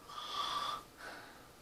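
A man imitates a snore during a sleep apnea consultation: one close, rasping snort on the in-breath followed by a softer, shorter breath out.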